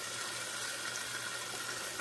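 A can's worth of water poured into a pot of cowboy stew made with clear mushroom soup, heard as a steady, close two-second wash of liquid with no voices.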